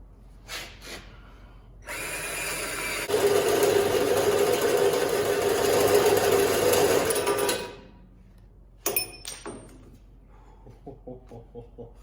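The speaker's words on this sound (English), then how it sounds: "All right, one hole drilled." A power drill bores a hole through a steel truck frame during reinforcement work on a classic truck, whining steadily for several seconds after brief starts, then stopping, followed by a few clanks and light tool handling.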